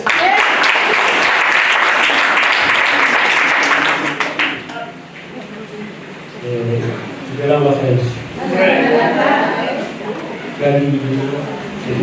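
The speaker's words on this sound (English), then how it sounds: "A round of applause." An audience at a women's celebration event breaks into loud, sustained applause for several seconds, which then fades as a speaker begins talking over the quieting room.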